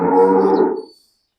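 A single deep, drawn-out moo from a large-framed heifer, close and loud, fading out at the end.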